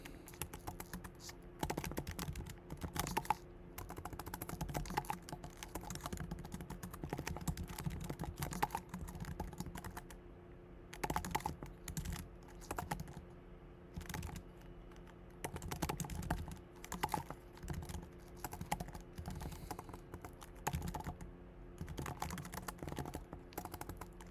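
Steady typing on a computer keyboard while coding, with dense rapid keystrokes in uneven bursts and brief pauses, heard up close and alone for a long stretch.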